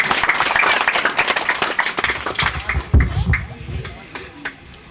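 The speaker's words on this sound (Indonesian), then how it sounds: "berikan tepukan yang gemuruh" Crowd at a party headquarters gathering claps loudly for a politician, the applause thinning and fading midway as a voice speaks over the dwindling claps.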